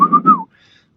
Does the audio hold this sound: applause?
no